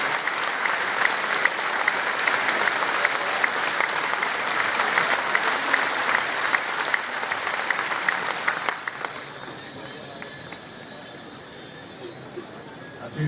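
A large audience at a state-level government event in Bhopal rises and applauds the Chief Minister, loud dense clapping sustained for about nine seconds before fading to a quieter room murmur.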